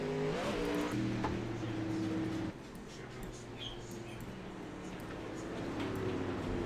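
A number 25 pro late model race car circles USA Speedway, its engine a steady mid-distance drone that eases and shifts pitch, with faint background chatter under it.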